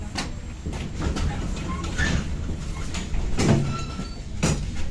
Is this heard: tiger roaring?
no